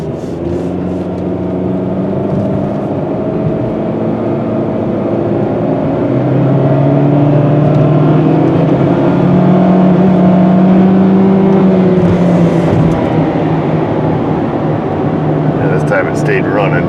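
Jeep Patriot with a P0339 crankshaft sensor fault and noisy wheel bearings, engine running steadily with droning, rising and falling tones as it revs, loud and close, with a voice speaking over it.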